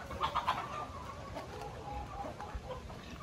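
Native chickens cluck and chatter in a breeding pen, a few close bursts early on over a steady bed of softer flock calls and farmyard noise.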